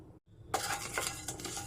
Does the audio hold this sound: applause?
no